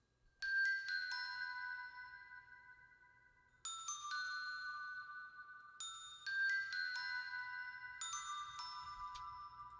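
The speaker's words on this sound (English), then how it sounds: "These glockenspiel mallet type things I found in Mallet Flux" Bright glockenspiel-style mallet samples from the Mallet Flux library in Kontakt ring out in short melodic phrases, each struck note sparkling and decaying with a soft shimmer, played alone.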